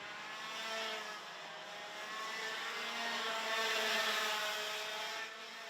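An X30 Senior racing kart on the Mariembourg circuit passes with a sustained high-pitched engine whine that swells and fades, fairly loud throughout, no talk.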